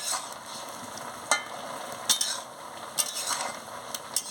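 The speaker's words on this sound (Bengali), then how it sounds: "দিয়ে ভালো করে একটু নাড়িয়ে নিচ্ছি" A spoon stirs soybean chunks into a papaya and potato curry in a pan, with sharp scrapes and clinks at irregular intervals over a soft, steady sizzle.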